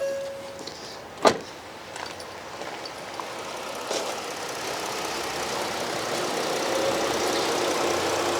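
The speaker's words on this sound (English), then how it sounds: "I'm gonna turn it on so you can hear what a nice, healthy engine sounds like" A 2011 Ford Explorer starts with a push button: a sharp click, then the engine settles into a quiet, smooth, steady idle that gradually rises into a continuous low hum.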